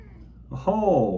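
A female cat meows close by in one drawn-out, wavering call that swells in loudness, following a quiet moment of low room noise.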